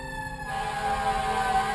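A fire engine's siren wails loud and steady as the truck approaches on its way to a fire, its tone rising and sustained over traffic rumble.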